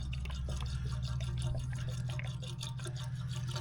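Premixed 50-50 antifreeze poured without a funnel into a plow that sat unused for eight years, heard as a faint, steady trickle with small drips splashing over a low background hum.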